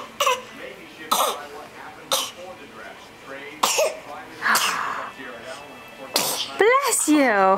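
A child sneezes and coughs several times near the microphone at home with a dog nearby, sharp bursts spaced irregularly, with squeals and vocal sounds between them.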